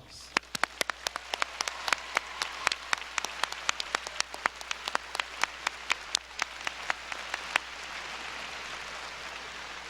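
Steady applause from a crowd at an engineering school commencement ceremony, many hands clapping continuously for several seconds before thinning out, with a few sharper individual claps standing out.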